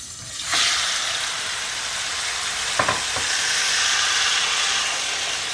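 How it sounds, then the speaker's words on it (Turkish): Peeled tomatoes dropped into hot olive oil seasoned with a spoonful of salt sizzle loudly in a pan, a sudden burst of frying hiss that settles into a steady crackle, with a couple of brief clinks partway through. "Mutlaka şu caz sesini arkadaşlar duyun."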